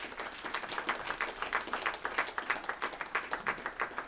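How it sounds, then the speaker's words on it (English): Audience applause fills a hall at a Pan-Africanism lecture, a steady dense wash of many hands clapping at moderate level, continuous throughout without any speech over it. "Give them a strong round of applause."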